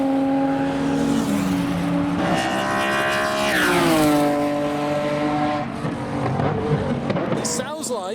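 A Ford GT40 race car's V8 engine starts and roars, its pitch sweeping upward as it revs hard, then settling into a loud, throaty rumble close by, at a track day.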